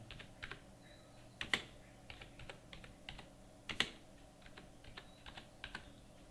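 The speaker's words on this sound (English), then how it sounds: "So type the 12-digit card number." Card number entered on a computer keyboard, with quick irregular key taps, a few sharper louder strikes among them, close and quiet with no talking.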